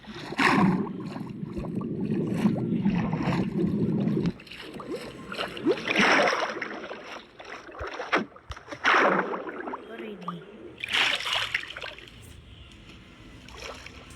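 A boat is rowed across water in a video game, with repeated paddling strokes and splashes coming in uneven bursts, fairly close and moderately loud.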